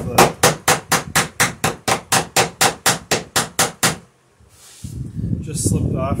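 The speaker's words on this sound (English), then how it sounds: "I think you might have been able to hear the change in tone of the hammer." A hammer strikes a metal rivet on a wooden dory in a steady run of about fifteen sharp, ringing blows, then stops; after a short pause, faint voices and shuffling follow.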